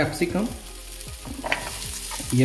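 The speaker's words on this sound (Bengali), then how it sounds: "ক্যাপসিকাম দিয়ে দিলাম। এবার এটাকে ফ্রাই করব।" Yellow capsicum (bell pepper) fries in a pan for paneer manchurian. It crackles and sizzles softly, broken by repeated scraping strokes of stirring.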